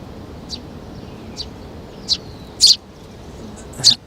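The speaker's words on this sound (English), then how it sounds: "There are 3 birds trying to attack my effects mic" Three small birds flutter around a microphone at a cricket match, giving about five quick high chirps, the last ones louder and closer, over quiet outdoor background noise.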